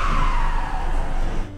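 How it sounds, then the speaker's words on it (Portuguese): A truck passing by on a road in Suzano, a loud broad rushing roar with a falling tone as it goes past, fading toward the end. "Passou um caminhão."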